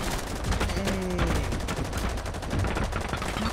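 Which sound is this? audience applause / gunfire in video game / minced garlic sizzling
gunfire in video game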